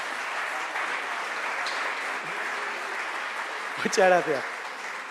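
Audience applause at a talk about the ironclad ship Numancia's first circumnavigation, a continuous even wash of clapping throughout, with someone briefly speaking over it near the end.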